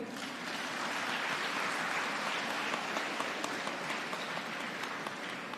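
A large seated audience claps continuously at a university convocation, a dense, even roar of applause that holds steady from start to finish without pauses or voices on top.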